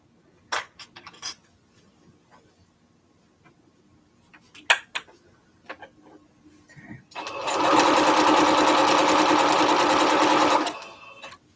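After scattered clinks and light handling noises, a sewing machine runs steadily for about four seconds, loud and close, joining quilt strips for a Triple Irish Chain quilt.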